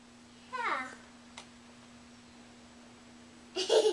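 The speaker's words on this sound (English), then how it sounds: "What a silly little kitty cat." A pet cat gives a short meow with a falling pitch, followed later by a brief faint click and a louder rustling burst, set against a steady low hum in a quiet room.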